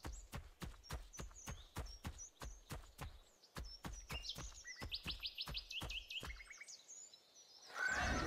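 Birds sing and chirp in the Ark video game, bright trilling calls and tweets heard over a steady series of heavy, evenly spaced footsteps.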